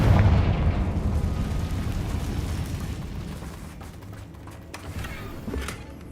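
A Confringo spell blast in a Harry Potter video game, a heavy booming explosion that hits at once and rolls off into a long rumbling decay.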